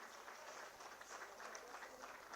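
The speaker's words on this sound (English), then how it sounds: "A big round of applause for all of them." An audience applauds dancers steadily at a ceremony, a dense wash of clapping heard from a distance, quiet and continuous without pauses.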